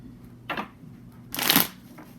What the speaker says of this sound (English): One big loud shuffle